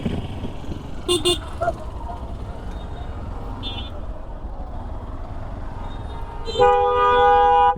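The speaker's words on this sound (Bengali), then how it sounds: "রাস্তার দিকে আজকে ভালো জ্যাম" A road traffic jam with vehicle horns sounding: a few short honks early on over a busy background hum, then one long, loud horn blast at the end.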